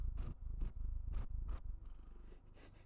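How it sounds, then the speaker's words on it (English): A house cat purrs close to the microphone, a soft, steady rumble that rises and falls in regular breathing cycles, with no talking over it. "I don't know if you all can hear him purring with the mic on or not, but he's definitely purring."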